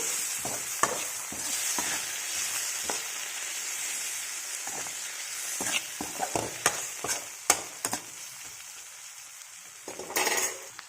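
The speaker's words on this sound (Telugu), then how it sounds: "ఇందులో ఒక టమాటో వేసిద్దాము కట్ చేసి ఇలాగా కలుపుకోవాలి" A spoon stirs onions and chopped tomato in a frying pan under a soft, continuous sizzle, with irregular scraping and clinking of the utensil against the pan, close up and without talk.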